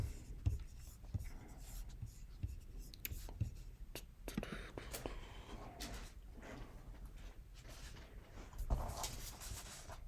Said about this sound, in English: I'm going to start by sketching out this idea on paper.